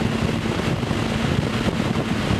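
A race car engine drones steadily at speed on the Brainerd track, heard from inside as a loud, even roar mixed with heavy wind rush, with no talking.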